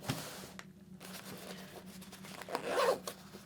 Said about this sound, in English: This zip here also helps with entry and exit.